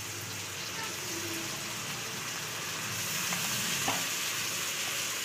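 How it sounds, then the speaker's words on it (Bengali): Onion with ginger, garlic and green chili paste frying in oil for a katla fish biryani, giving a steady broadband sizzle with faint stirring scrapes, the crackle swelling slightly toward the end. "সব মশলাগুলোকে আবারও তেলের মধ্যে কিন্তু খুব ভালো করে একটু কষিয়ে কষিয়ে"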